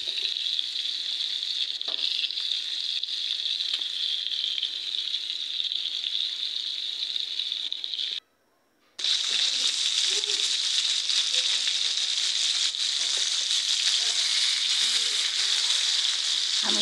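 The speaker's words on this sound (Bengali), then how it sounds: "ভাজা শুরু করলাম।" Tilapia fish fry in oil in a pan with a loud, steady hiss and crackle that runs continuously, broken only by one short silent gap midway.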